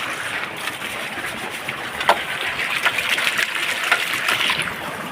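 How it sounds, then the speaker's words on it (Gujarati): Water runs steadily from a hose or tap for washing a car, a continuous close trickling rush with small splashes and no talk over it. "તો પાણી આવે છે"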